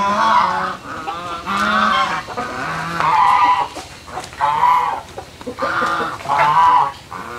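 A hen and nearby geese on a rural Vietnamese farm give repeated loud, close calls, with bursts of honking and clucking arriving in steady waves every second or so.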